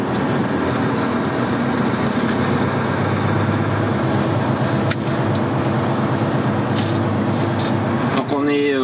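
A Volvo truck with a D13 540 engine idles in a constant loud diesel drone with low rumble and steady mechanical hum, heard from inside the cab.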